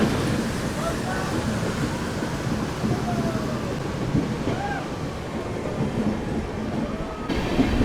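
Continuous rumbling and rattling of the Amaravati Express moving along rails on a Kolkata to Goa journey, steady and close, with faint voices in the background.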